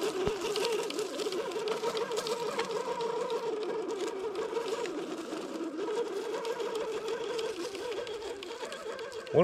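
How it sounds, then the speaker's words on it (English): Axial SCX6 RC truck running with a clicking axle, a steady fast mechanical whir and ticking drivetrain rattle heard close up and continuous, no talk over it. "One of your axles is clicking."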